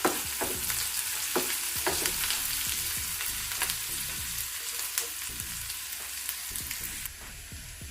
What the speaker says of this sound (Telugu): ఇది 1 నిమిషం పాటు పచ్చివాసన పోయే వరకు వేయించుకోవాలి.